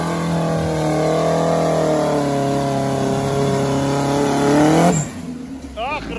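A turbocharged UAZ off-road vehicle holds a loud, close, sustained rev with its engine note climbing steadily for about five seconds, then the roar cuts off abruptly and quieter sounds follow.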